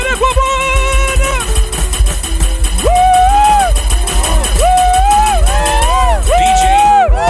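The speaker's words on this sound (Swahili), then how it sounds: "Tupige shangwe na vigeregere kwa Bwana." A church congregation cheering and ululating, with loud high trilling cries rising repeatedly over crowd shouts and background music.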